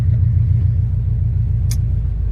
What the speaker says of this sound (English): We're about to go for the first test drive with the brand new tranny.